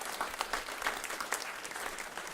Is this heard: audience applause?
yes